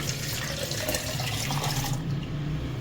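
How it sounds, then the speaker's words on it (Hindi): Water pours steadily into a blender jar, a continuous splashing gush that fades slightly near the end. "सारा पानी डाल देंगे"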